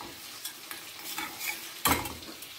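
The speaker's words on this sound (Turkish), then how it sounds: "Ben üzerine salça ilave ediyorum. Güzelce karıştıracağım." Tomato paste being stirred into a pan mixture while making a Turkish balaban kebab, a soft scraping and sizzling stir with one louder scrape near the end; no talking.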